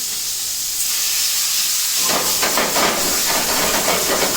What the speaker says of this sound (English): Flambe your shrimp.